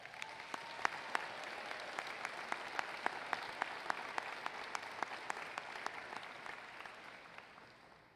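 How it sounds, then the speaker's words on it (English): Applause at a college convocation ceremony, a steady patter of clapping from an audience with a few louder nearby claps standing out, gradually thinning and fading toward the end. "Let's give him a round of applause."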